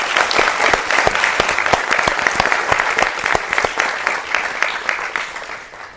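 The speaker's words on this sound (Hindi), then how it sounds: "एक बार जोर से तालियां बनाए हमारी सशस्त्र सेना के लिए।" An audience claps loudly and steadily for several seconds, the applause tapering off toward the end.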